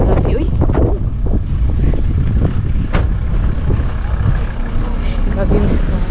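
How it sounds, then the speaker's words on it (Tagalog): Strong wind gusting during heavy snowfall outdoors in Finland, a loud steady low roar buffeting close to the microphone throughout, with a voice speaking briefly over it. "Tapos mahangin pa."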